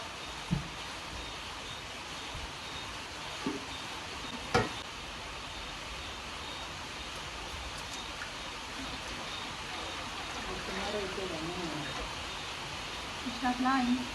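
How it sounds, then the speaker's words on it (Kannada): Pure coconut oil heating in a pan on a gas stove for homemade herbal hair oil, a faint steady sizzle with occasional light clinks, under a low background hiss. "ಇವಾಗ ಎಣ್ಣೆ ಸ್ವಲ್ಪ ಕುದೀತಾ ಇದೆ"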